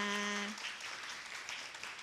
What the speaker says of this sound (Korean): 다시 한번 큰 박수로 우리 아이들 격려 부탁드리겠습니다